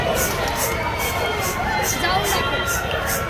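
A crowd mills about at a village fair (urus), a dense steady hubbub of many voices and footsteps with a person talking close by.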